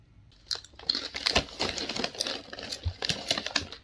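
Muji spicy hot pot flavored crinkle-cut wavy potato chips crunched up close, giving a rapid, crisp run of crackling bites and chewing that continues steadily with no talk.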